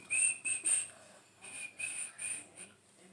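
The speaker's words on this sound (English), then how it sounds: "Try to whistle." A person whistles a short series of breathy, wavering notes, close and quiet, in two uneven phrases.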